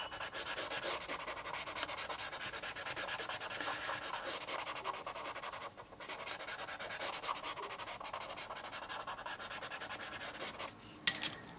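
A light grey pastel pencil shades across paper up close, giving a steady dry rasp of continuous back-and-forth strokes that pauses briefly once before going on.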